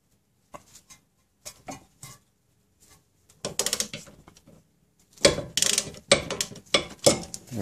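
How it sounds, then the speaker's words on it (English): Ratcheting wrench loosening a brake caliper bolt on a rear brake of a Honda Accord, heard as several short bursts of clicking and metallic turning, growing louder and denser toward the end, with no talk. "while I loosen this bolt"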